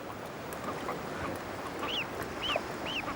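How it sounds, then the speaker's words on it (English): Falklands flightless steamer ducks give three short rising-falling honking calls over steady outdoor background noise, moderately close and fairly faint. "These are Falklands flightless steamer ducks."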